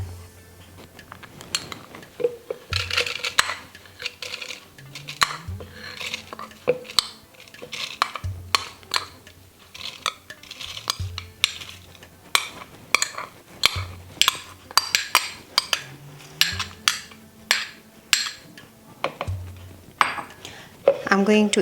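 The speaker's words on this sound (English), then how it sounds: "First we going to crush this rice" Rice crushed with yogurt in a bowl, with repeated clinks and scrapes of a utensil against the dish in a steady close rhythm while a person talks over it.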